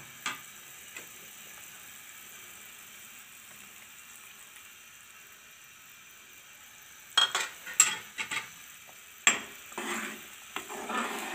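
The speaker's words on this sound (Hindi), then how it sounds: "कॉर्नफ्लोर डालते ही इसे हिलाते जाएं और इसकी थिकनेस देखते जाएं।" A spoon stirs chicken vegetable soup thickened with cornflour in a pot: a long quiet stretch of faint hiss, then several close scraping and clinking strokes in the final seconds.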